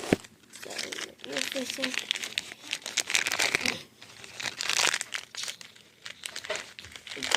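Crinkling and tearing of plastic packaging while a Decora doll is unboxed, rustling in bursts close to the mic, with a person talking over much of it.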